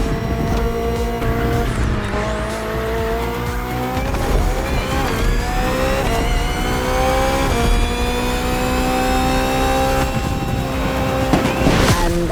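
BMW hybrid V8 race car in The Crew Motorfest video game, a loud engine revving up and down through gear changes, rising and falling whines, with tyre squeal and skidding mixed in.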